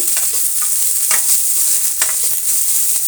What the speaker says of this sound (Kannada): ಸಾಸಿವೆ ಹಾಕ್ತಾಯಿದ್ದೀನಿ ನಂತರ ಈರುಳ್ಳಿ ಒಂದೆರಡು ಕಟ್ ಮಾಡ್ಕೊಂಡಿರೋದು ಸಣ್ಣದಾಗಿ ಹಾಕ್ತಾಯಿದ್ದೀನಿ ಫ್ರೈ ಆಗಲಿ